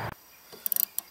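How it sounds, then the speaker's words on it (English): Small metal nut being run down and snugged onto the rear wiper arm of a Chevy Tahoe, giving a quick burst of light ratcheting clicks after a brief bump, then one more click, close and quiet. "then I'll put the nut on and tighten it up"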